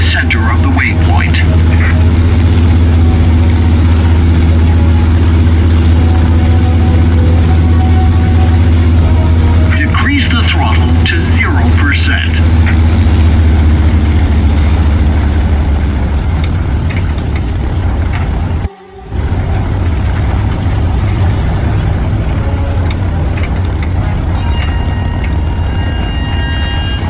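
Propeller aircraft engine in the War Thunder video game, a steady loud low drone throughout with a brief cut near the end, under a narrating voice.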